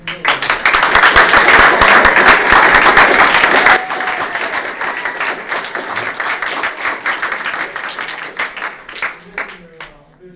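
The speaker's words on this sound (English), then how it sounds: "He deserves a round of applause." A room full of people claps loudly for a Scout honoree at a Boy Scout Troop 88 Court of Honor, dense applause that thins after a few seconds into scattered claps with voices talking.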